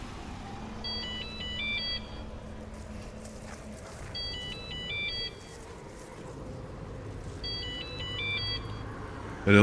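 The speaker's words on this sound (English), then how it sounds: "That is the phone." A telephone rings inside the video game Warframe in three spaced bursts of patterned electronic trills, over a steady low game ambience with no talking.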